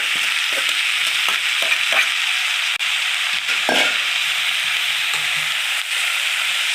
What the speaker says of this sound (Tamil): இப்போ நம்ம வடித்து வச்ச கோஸை இதில் சேர்த்துக்குவோம்.